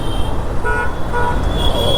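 Heavy evening road traffic near Udhna Chowk in Surat, a dense steady roar of passing vehicles with short car horn toots cutting through repeatedly, loud and close throughout.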